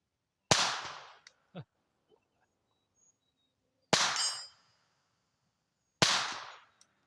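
Suppressed rimfire rifle shots at an outdoor range, three sharp, clapping reports spaced several seconds apart with short decaying tails and faint clicks between them.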